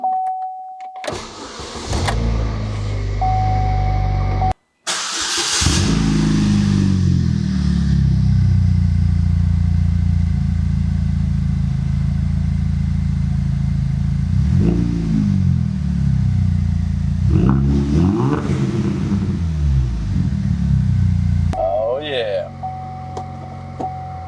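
A manual 2008 Chevrolet HHR SS fires up after a short starter crank, then settles into a loud, steady idle punctuated by a few throttle blips before cutting off near the end.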